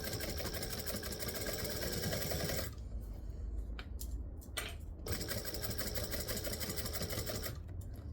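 A sewing machine stitches along a folded fabric edge with a steady, close mechanical whir. The motor stops briefly partway through, gives a few short restarts, then runs steadily again. No one talks.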